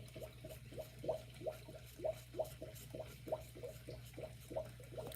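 Water swirled and sloshed by hand while loose hairs are rinsed out of a doll's hair, making soft, quiet rhythmic swishes about twice a second with no talking.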